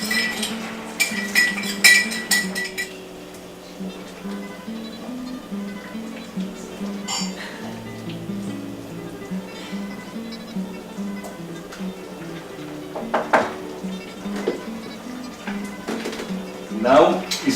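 A utensil stirs paella broth in a pan, with scattered light clinks and scrapes against the metal, a few sharper taps near the start and end, while a person talks throughout.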